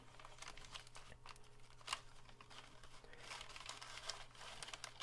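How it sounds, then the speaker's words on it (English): Paper crinkles and rustles in bursts as it is slid out from under a clutch of ball python eggs, close and fairly quiet, with a low steady hum underneath. "Just get the paper out from under there."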